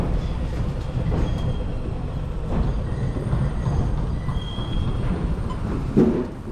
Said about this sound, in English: we see a D1 class tram on outbound on Route 16 in a advertising colour scheme.